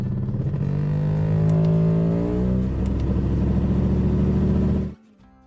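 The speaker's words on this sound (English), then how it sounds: "this customer came in with their Mercedes because it sounds like an outboard motor" A Mercedes engine runs roughly and revs, a loud uneven droning buzz like an outboard motor that rises and holds, then cuts off abruptly near the end.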